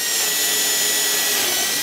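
A power drill with a 5/32 bit bores a hole through a Telecaster guitar body for a string ferrule, giving a steady, close, high-pitched whirring grind that runs continuously without pause.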